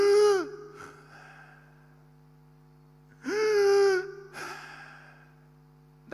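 A man imitates abnormal gasping breathing, giving sharp, strained gasps with long quiet pauses between them, close and clear over a faint steady hum in a seminar setting.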